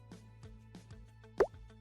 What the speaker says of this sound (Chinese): 先把切成块状的红萝卜再和双氧水一起放进锥形瓶里，此时瓶里会产生大量气泡